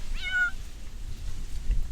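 A cat gives a single short, clear meow near the start, rising then falling, followed by quiet low background hum.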